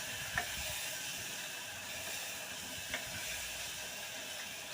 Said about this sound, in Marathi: आता तेलामध्ये तो व्यवस्थित फ्राय करून घ्यायचा